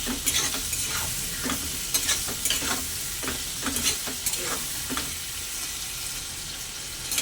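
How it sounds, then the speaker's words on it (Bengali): Salted potatoes fry with a constant sizzle while a utensil stirs and scrapes the pan in regular strokes, close and loud, no voices. "লবণটা দিয়ে আলুটা আর একটু ভালো করে ভাজা ভাজা করে নেব।"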